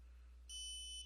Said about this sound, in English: the logger will beep at us and say hello on the front of the screen